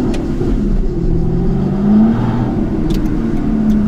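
An Aston Martin V12 Vantage S sports car's V12 engine growls loud and close, swelling into a rev around the middle and settling back to a steady throaty drone, with no talking.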